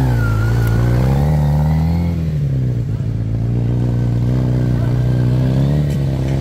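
Yamaha TMAX scooter engine held at a steady, loud near drone with slight throttle swells during a slow leaning turn, the pitch dipping and rising gently.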